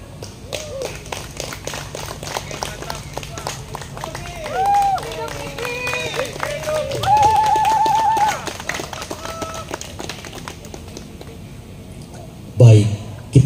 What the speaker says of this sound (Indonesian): kita boleh berikan tepuk tangan yang luar biasa lagi Bapak Ibu